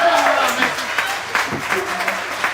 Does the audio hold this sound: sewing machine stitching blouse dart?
no